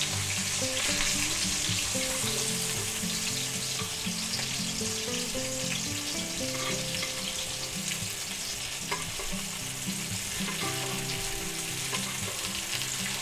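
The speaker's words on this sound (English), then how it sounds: "let's go ahead and baste our steak" A chuck eye steak sizzles loudly in a pan with garlic cloves as it is basted, a constant dense frying hiss with soft spoon and pan movements underneath, no voices.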